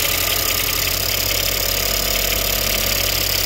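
A 2017 Ford Fusion engine idles after a high-pressure fuel pump replacement, a steady, even, rhythmic running sound heard close up with no voices.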